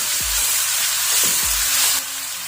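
Onions frying in a pan with ginger garlic paste for egg biryani, a steady broadband sizzle with a few low thumps as the mixture is stirred.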